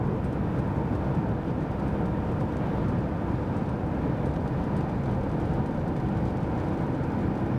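Steady low drone of a 2007 Saturn Sky with a 5-speed manual gearbox cruising up a road, an even engine and road hum holding constant without a break.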